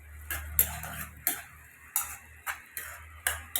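Spoon scraping and stirring prawns with ridge gourd in a pan, village-style cooking, giving about eight sharp, regular metallic strokes over a low background hum.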